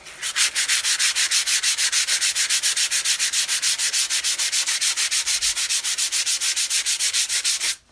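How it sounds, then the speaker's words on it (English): A wooden brace on a vintage Silvertone archtop guitar being sanded with 220 grit sandpaper: a fast, steady run of roughly thirty even rubbing strokes, close and consistent, with no talking. "I'm sanding the underside of the brace."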